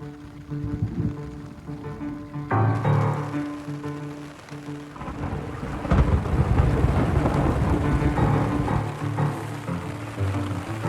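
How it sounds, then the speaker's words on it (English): Steady rain hisses throughout on a backpacking campsite, with a deep rumble of thunder rolling in and swelling partway through, loud and close. "Especially once the rain started."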